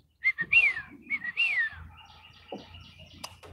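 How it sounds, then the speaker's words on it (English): A whippoorwill calls in the early morning, giving several clear, rising and falling whistled phrases up close, followed by softer chirps and faint background sounds. "It's a whippoorwill."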